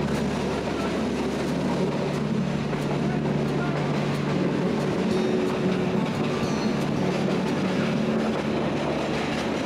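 A train runs steadily through dense forest on a narrow line with foliage close to the windows, giving a continuous loud rumble and rattle heard from inside the carriage, with faint voices mixed into the noise.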